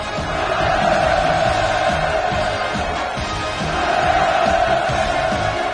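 A huge crowd at the opening ceremony of a tourism zone in Wonsan, Kangwon Province, cheers enthusiastically, a loud, continuous roar of massed voices that swells and holds steady without a break.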